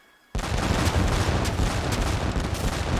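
Ship cannons fire in an Age of Empires 3 cinematic, a sudden thunderous volley that swells into a sustained, roaring barrage of overlapping blasts after a brief quiet lead-in.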